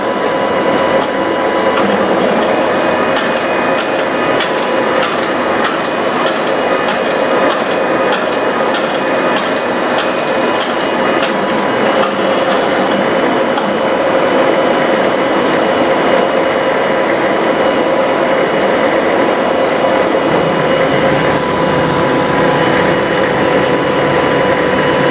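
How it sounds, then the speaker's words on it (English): A Mimaki JV100 wide-format inkjet printer prints and then feeds media with a loud, steady mechanical whir. Rhythmic tonal pulses run through the first half, then the hum settles into an even drone. "Let's wait until the media will post feed after printing."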